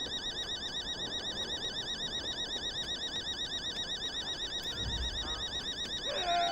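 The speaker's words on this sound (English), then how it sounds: "I don't know what these alarms are doing." Several alarms sound together in a steady, wavering electronic wail with regular pulsing modulation, continuous throughout and at moderate distance, with a brief low thud near the end.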